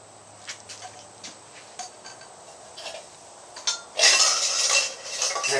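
Anodized aluminum camp cooking pot from an Esbit spirit stove set being handled, first with light scattered ticks and taps, then a louder burst of metallic clattering and clinking near the end.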